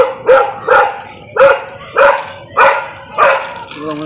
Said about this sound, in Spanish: ¿Ese perro no se calla?